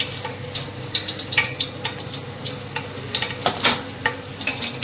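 Cinnamon bark and curry masala crackle and pop as they hit hot oil for biryani, a close, fairly soft sizzle with scattered sharp spits and crackles.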